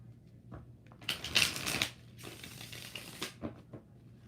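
Tarot cards shuffled by hand in a quiet room, a crisp papery riffle burst that swells loud, pauses briefly, then returns as a longer softer run of shuffling, with scattered small taps around it.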